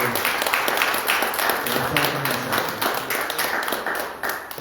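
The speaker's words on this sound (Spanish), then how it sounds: "Yo creo que merecen un aplauso" A church congregation claps in a loud, steady burst of applause for a few seconds, filling the room with dense hand claps and a bit of chatter underneath, easing slightly toward the end.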